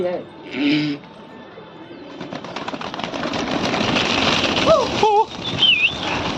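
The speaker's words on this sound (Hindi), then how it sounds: "कबूतरों को चक्की दी जा रही है, दाना दिया जा रहा है।" Pigeons in a large flock being fed grain coo and flutter nearby, with bursts of wingbeats and scattered calls; someone talks over the birds throughout.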